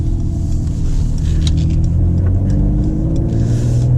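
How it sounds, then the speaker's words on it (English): Mercedes-AMG C43 with sport exhaust, a loud, steady deep engine rumble that swells slightly as if revving, close and continuous throughout with no talking. "But this sport exhaust is worth it, man."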